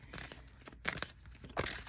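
Tarot cards are shuffled close by in soft bursts of papery riffling and crinkling, three or four rustles over about two seconds with no speech.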